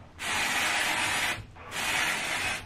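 Dry shampoo sprayed onto hair in two long hissing bursts from an aerosol can, close and loud, separated by a brief pause, with no talk.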